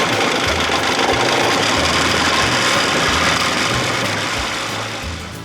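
Close by, a 1979 Evinrude 55 hp outboard motor runs with a loud, steady drone, a rhythmic low knock and a ratcheting rattle, easing slightly in loudness toward the end; no one speaks.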